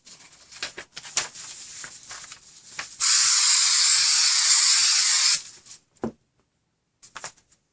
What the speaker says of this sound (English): I'm going to use some Super 77 spray adhesive.